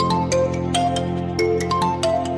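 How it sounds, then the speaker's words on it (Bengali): A custom phone ringtone made from a spoken name plays as a chiming melody of bright, separate notes over a sustained backing, at moderate volume. "30 সেকেন্ডের রিংটোন বানাইতে পারবেন যে কোনো মানুষের নাম দিয়ে"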